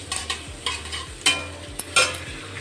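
Onion and green chili frying in a pan for Maggi noodles, a steady close sizzle broken by several short stirring scrapes spread across the stretch.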